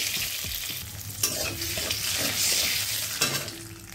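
Salt dropped into hot mustard oil in a pan sets off a steady, close hiss of frying with a couple of sharp utensil clicks along the way.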